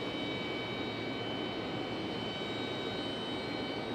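A United airliner taxis near the gates at Raleigh-Durham International Airport, its jet engines giving a steady, distant whine and rumble that holds evenly throughout, with no voices.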